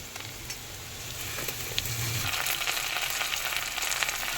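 Garlic sizzles in hot oil in a pan with onions for an egg curry, a steady close crackle and hiss that grows a little louder partway through.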